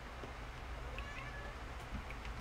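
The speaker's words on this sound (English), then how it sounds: "what the hell does this cat want? She's being really insistent." A cat, a female, meows insistently in short, faint calls over a steady background hum, with no talk in between.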